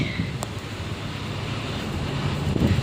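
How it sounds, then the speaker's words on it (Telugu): A strong, steady wind roars and buffets the microphone throughout under heavily clouded skies in a village, a dense continuous rush with no talking. "ఫుల్ గాలి వస్తుంది ఫుల్ మొగులైంది"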